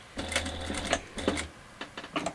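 A sewing machine stitching a clutch bag runs in two short close bursts with a stop-and-turn pause between them, followed by light clicks and handling noise.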